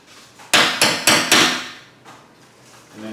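A hammer strikes a center punch four times in quick succession to sink fasteners into a shelf, sharp and close, then a softer tap and faint handling follow.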